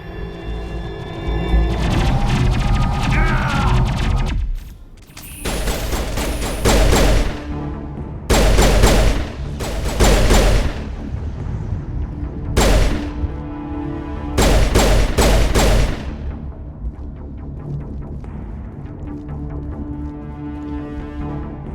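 Gunfire in the video game Mass Effect 1 Legendary Edition, loud rapid volleys of weapon shots in several long bursts separated by brief lulls, with a steady game soundscape underneath.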